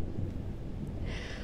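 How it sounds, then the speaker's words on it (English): A low rumble of thunder from a thunderstorm rolls on steadily for the whole short stretch, faint and distant, with a brief hiss near the end. "It's a thunderstorm."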